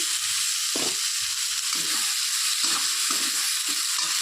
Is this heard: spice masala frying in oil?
yes